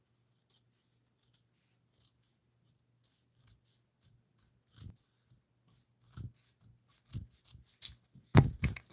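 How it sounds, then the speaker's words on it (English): Scissors cutting craft material, sparse snips that grow into a quicker run of crisp, close cuts toward the end in a quiet room. "so we're just gonna cut it."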